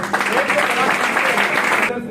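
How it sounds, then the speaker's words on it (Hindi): An audience at a business opportunity program claps together in a steady, fairly loud burst. Some voices talk over it, and the clapping cuts off abruptly near the end. "प्लीज कम, एक बार जोड़ा तालियां"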